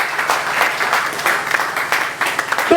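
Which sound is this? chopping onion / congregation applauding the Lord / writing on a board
congregation applauding the Lord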